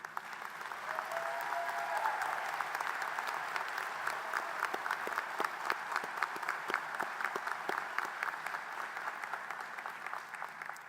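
Graduating nursing and health professions students applaud their faculty at a college commencement, a sustained even wash of many hands clapping, moderately distant and steady throughout.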